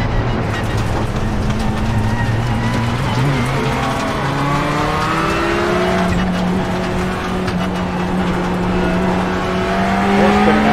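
Ferrari GT3 race cars in iRacing at Lime Rock spin out with tires squealing in long rising and falling tones over a steady, loud engine roar that holds throughout.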